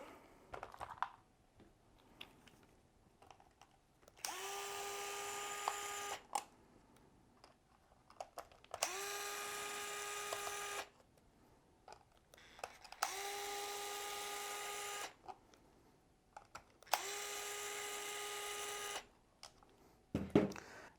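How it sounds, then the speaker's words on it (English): Four bursts of a small electric screwdriver backing screws out of a waterproof servo box cover for a hobby RC model, each whine lasting about two seconds with short quiet gaps and faint handling clicks between. "we're going to remove all of the screws out of our waterproof box"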